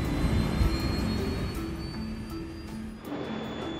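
A Qantas 32 airliner's jet engines roar steadily during takeoff, a broad, rushing drone with a faint whine, heard at moderate level and fairly constant throughout.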